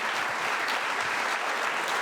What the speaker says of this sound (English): how about one more round of applause for the GHS Mixed Choir and Mr. Frankville?